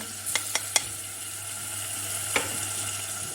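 Minced meat fries in oil in a pot, a soft continuous sizzle with a low hum beneath, broken by three quick sharp spatter clicks early on and another a couple of seconds later.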